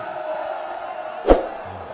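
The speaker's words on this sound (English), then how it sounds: "Lovely crowd that's come in." Crowd at a Pakistan Super League cricket match between Quetta Gladiators and Islamabad United, a distant broad murmur of the stadium audience with a single sharp thump midway.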